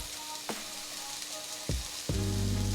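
Chopped onions sizzle and fry with a teaspoon of salt in a pan for an Indian dal palak curry, a steady close hiss broken by a few sharp stirring knocks and scrapes.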